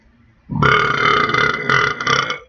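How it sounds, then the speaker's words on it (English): A single long, loud burp rumbling for about two seconds after a brief quiet moment, close and alone with no talk. "That was a romantic burp, so it's okay."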